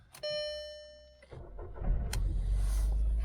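A Skoda Fabia bought at auction starts up: a chime sounds, then the starter cranks briefly and the engine catches into a low steady idle, heard close and alone.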